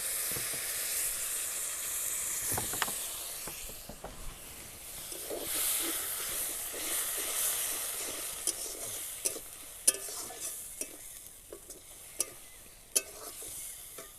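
A little water hits frying spices in a pan and sets off a loud, hissing sizzle that slowly eases, with steady stirring and sharp spoon scrapes and taps toward the end. The sound is close and carries no talk.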